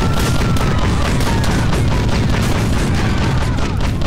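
Dense, loud bursts of video game gunfire layered with booms and crashes during a police chase, continuous and chaotic across the whole stretch with no break.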